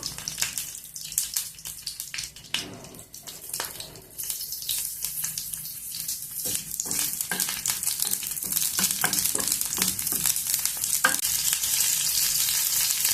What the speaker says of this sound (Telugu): కొంచెం ఆయిల్ వేసుకున్నాము ఫస్ట్ వేడైంది పచ్చిమిర్చిని వేయించుకున్నాము